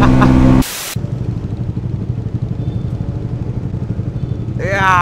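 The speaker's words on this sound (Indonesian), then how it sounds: "Cobain motor Martin tuh keren." A motorcycle engine throbs steadily up close while riding. Short bursts of voices come at the start and end.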